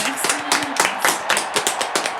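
A few people in a radio studio clap for young Ruben, a sparse run of distinct, fairly close handclaps in an uneven rhythm, with a voice briefly audible at the start.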